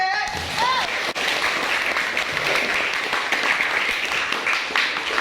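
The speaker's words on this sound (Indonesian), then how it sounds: "Tepuk tangan sekali lagi." A classroom of students applauding together at the end of a lesson, steady dense clapping that fills the room, with a few voices and cheers mixed in, loud and close.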